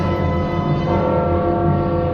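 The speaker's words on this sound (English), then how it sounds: "the sound of this bell really feels super gloomy" A church bell in the historic centre of Mexico City, at a Hispanic colonial Baroque church, rings with a sustained, resonant tone that hums on and decays slowly.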